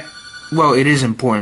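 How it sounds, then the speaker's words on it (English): Telephone ringing in short bursts under close, loud speech from someone talking. "Sorry about the phone ringing."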